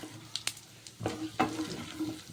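Fenugreek seeds, cumin, urad dal, mustard seeds and chana dal frying in a pan, a steady close sizzle with a few sharp pops and crackles, no talking.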